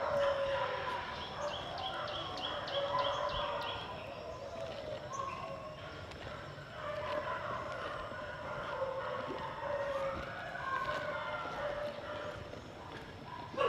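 Several dogs barking and howling at a construction site after a bell sounds, with a horse's clip-clop mixed in. The barking is moderately loud and runs throughout, with a person talking nearby.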